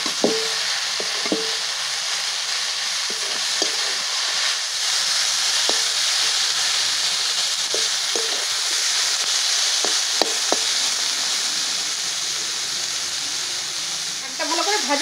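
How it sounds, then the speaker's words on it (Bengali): Fenugreek leaves frying in a pan with aubergine and onion, a continuous close hissing sizzle with occasional clinks of a stirring utensil, no talk. "মেথি শাকটা দিয়ে আরো ভালো করে ভেজে নেব।"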